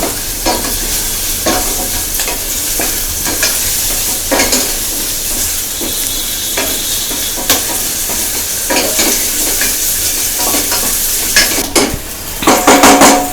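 Onions fry in a pan toward golden brown while being stirred for a sauce, giving a loud, steady hiss and crackle broken by regular metallic clinks of a utensil against the pan, ending in a busier flurry of scraping.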